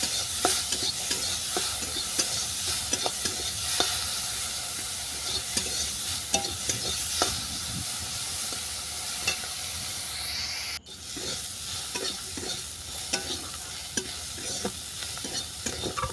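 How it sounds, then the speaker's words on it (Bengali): Shrimp sizzling in hot oil in a pan with turmeric and salt, stirred with repeated scraping strokes over a continuous close, loud frying hiss; no talking. "চিংড়ি মাছটাকেও নেড়ে চেড়ে ভালো করে ভেজে নিচ্ছি।"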